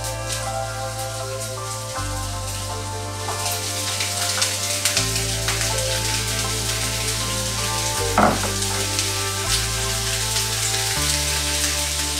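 Onions and peppers fry in a pan with an even, rain-like sizzle, close and constant, under a steady background drone, with one sharper clatter partway through.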